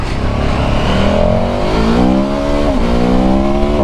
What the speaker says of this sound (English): I'm just going for a trundle with my friend Tom on his Multistrada V2S